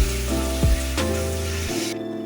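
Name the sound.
spices with cumin and ginger-garlic paste frying in a pan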